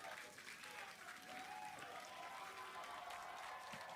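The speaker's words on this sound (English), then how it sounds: "There's the cheering." A crowd watching the Starship Flight 6 launch countdown applauds and cheers as a steady distant roar of clapping and voices, faint and continuous throughout.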